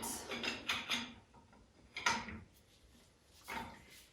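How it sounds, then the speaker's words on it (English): A fork cap wrench loosens a bicycle fork top cap, giving a few brief metallic clicks and scrapes near the start, a sharper crack around two seconds in, and another short tool sound near the end, all close and fairly quiet. "Use your fork cap wrench and you can just place it on there, release it."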